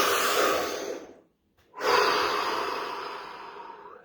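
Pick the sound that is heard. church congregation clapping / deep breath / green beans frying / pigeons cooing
deep breath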